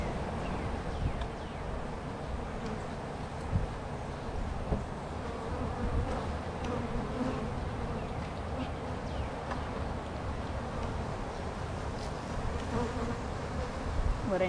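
Honey bees swarm around an open hive, a dense, continuous buzzing close by with individual bees droning past and light rustling of the hive work underneath.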